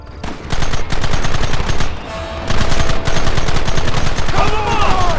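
Rapid bursts of gunfire from a shootout in the Red Dead Redemption video game on Xbox One X, loud and dense with repeated overlapping shots and no pause in the firing.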